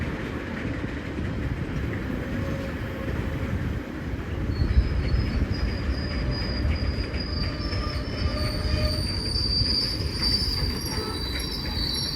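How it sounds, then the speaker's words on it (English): A freight train rumbles steadily nearby at Wigan North Western station as high metallic wheel squeals rise and persist, sounding like the cars slowing to a stop. "Sounds like this freight train's stopping."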